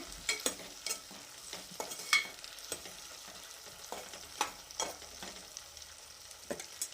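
Cucumber pickle ingredients being mixed by hand in a bowl, giving a run of soft, irregular wet stirring and squishing pulses with a few sharper clicks, close up and with no voices.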